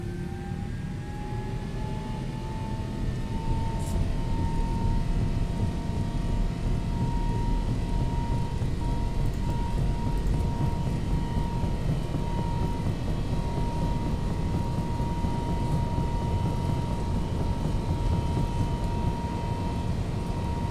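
Boeing 777-200LR engines roaring steadily on the takeoff roll in X-Plane 11, a loud continuous rumble with rising whine tones, no talk.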